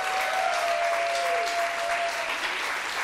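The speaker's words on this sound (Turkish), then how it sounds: "Alkışlarla efendim Türkan Hanım." A studio audience claps steadily through a Turkish daytime TV show, dense and continuous, with a faint whistle-like tone drifting through the early part.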